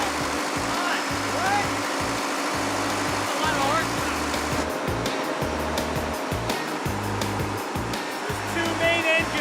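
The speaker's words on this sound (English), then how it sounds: "That's a big engine." The large main engine of an Antarctic expedition ship runs in its engine room, a loud, dense, steady mechanical roar with a pulsing low throb, while people talk over it.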